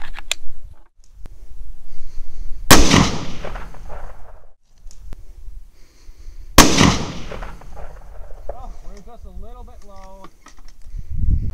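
Bergara B14 HMR rifle in 6.5 Creedmoor firing at small steel gongs outdoors: two loud, sharp shots several seconds apart, each followed by a ringing metallic decay, with faint talk and a brief whistled tone between them.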